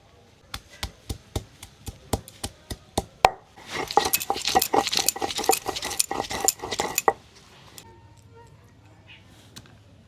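Ginger and garlic are crushed on a stone grinding slab in a village kitchen while a crab curry is prepared, with a steady run of sharp pounding knocks, then a faster, denser scraping and knocking burst before it trails off into quiet.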